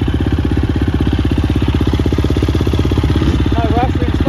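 A motocross bike engine runs close by at a steady, loud idle with a fast pulsing putter at a motocross park, while voices talk over it.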